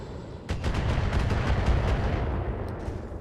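Missile impacts on mechs in the BattleTech game arrive as a close run of heavy booming blasts, one crashing onset followed by rapid rumbling thuds that fade toward the end, with no voices.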